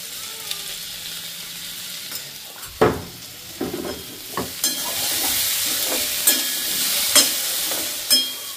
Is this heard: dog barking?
no